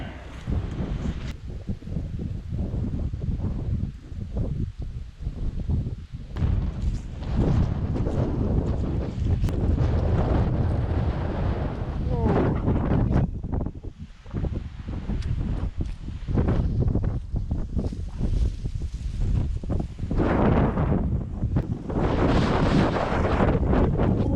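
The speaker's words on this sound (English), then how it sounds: "Wind." Strong outdoor wind buffets the microphone for the whole stretch, a loud, rough, constantly surging roar with gusts rising and falling and no voices.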